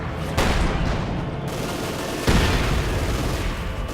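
Loud, dense bursts of video-game gunfire and rifle grenade blasts in Company of Heroes 2, with two sharp surges of booming shots over continuous rumbling battle noise.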